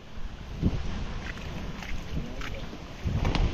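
Steady, loud wind buffeting outdoors, a continuous rushing roar with gusts rising and falling throughout, no voices.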